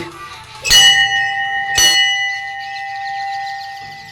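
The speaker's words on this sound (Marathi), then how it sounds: "ही घंटी घंटी वाजवू आधी" A bell at a Brahmadev temple is struck twice, about a second apart, each strike leaving a bright, lingering metallic ring that slowly fades.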